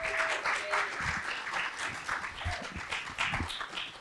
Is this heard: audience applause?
yes